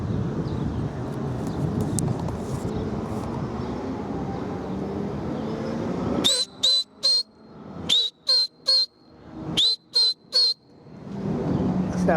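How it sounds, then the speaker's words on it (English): Repeated sharp human whistles, about nine short rising blasts in quick bursts, used to push a flock of roller pigeons up into flight outdoors, standing out clearly after a stretch of wind-like outdoor noise. "That's that whistle to push them up."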